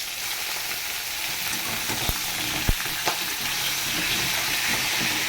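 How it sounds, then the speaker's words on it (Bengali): Pieces of pointed gourd (potol) fry in hot oil in a kadai with a loud, continuous hiss, punctuated by a few sharp clicks from stirring. "পটলগুলো ভালো করে লাল লাল করে ভেজে নেব।"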